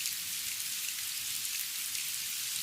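Steady rain falls on a village street, a dense even wash of patter and hiss that continues without pause, with no thunder or voices.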